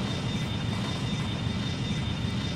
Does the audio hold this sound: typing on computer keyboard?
no